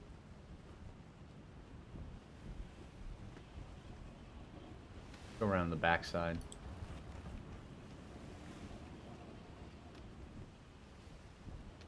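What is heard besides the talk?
ocean waves in the video game Atlas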